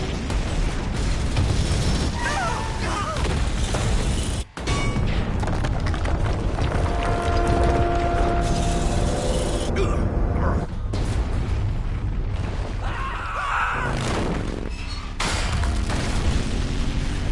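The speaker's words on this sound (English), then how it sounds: "There you go. Down goes the bridge." A bridge explodes and collapses in the video game Metal Gear Solid Delta: Snake Eater, a loud, continuous rumble of blasts and crumbling debris with rolling booms and a brief gap near the middle.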